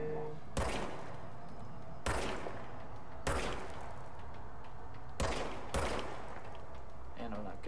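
Gunshots in the video game Control fire in a handful of sharp, separate bursts spaced a second or two apart, with a quieter tail between them.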